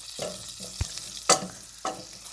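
Garlic frying lightly in a pan for molokheya, with a soft sizzle under a few distinct stirring scrapes and clacks of a utensil against the pan, spaced unevenly over a couple of seconds.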